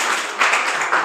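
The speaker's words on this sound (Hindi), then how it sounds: "सभी बच्चे तालियां बजाएं।" Children in a class clap together in steady, dense applause for about a second, fairly close and filling the room, with no talking over it.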